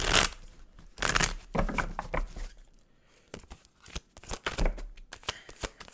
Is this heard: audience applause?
no